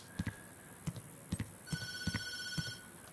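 An old telephone ringing in the horror game Tattletail, sharp repeated bell trills in a quick uneven rhythm, fairly close and clear against a quiet background with no talking.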